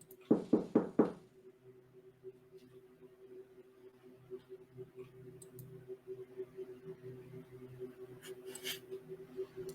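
A quick burst of four sharp knocks on a door sounds near the start, followed by a low steady hum and quiet background noise for the rest of the stretch.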